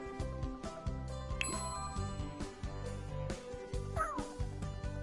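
A cat meows in The Sims 4 video game, a short call rising briefly above steady game music that plays throughout.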